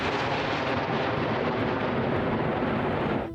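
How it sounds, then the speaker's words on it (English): Explosions in wartime Lebanon produce a loud, continuous, rumbling roar that stays heavy and steady throughout, with no speech. "Explosions were heard and smoke seen rising over Lebanon"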